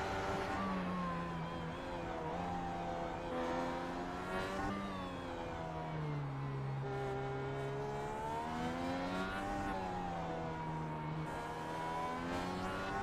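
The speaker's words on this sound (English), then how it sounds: "Let's have a listen to the engine note." Heard from on board, a race car's engine drones loudly and continuously at Mid-Ohio, its pitch rising and falling as it accelerates and lifts through a series of corners.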